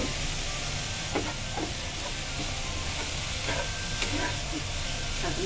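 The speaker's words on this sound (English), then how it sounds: "then we just stir it up and just cook it for a few minutes" Egg and chopped carrots stir-frying in a pan, a steady hiss and sizzle with occasional light scraping knocks from stirring, close and continuous, with a voice speaking over it.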